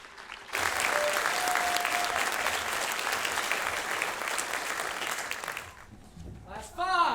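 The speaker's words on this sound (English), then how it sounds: "Let's give all of our award winners a round of applause." Sustained applause from the audience at a fire academy recruit class graduation, a dense roomful of clapping that holds steady for several seconds, then fades as a voice begins speaking.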